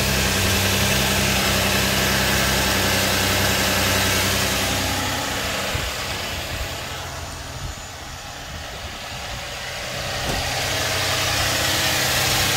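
A Cadillac engine idles steadily after a water pump replacement, a continuous close rumble with a slight dip in level midway and no talking.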